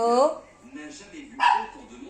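A small dog acting as a guard dog barks indoors, two sharp close barks separated by a brief pause, with background conversation between people.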